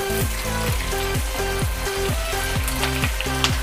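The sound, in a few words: chopped onion with salt sizzling in pan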